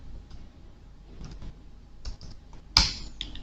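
Commands being typed on a computer keyboard during a Metasploit session, a sparse run of soft, close key clicks ending in a sharper louder tap.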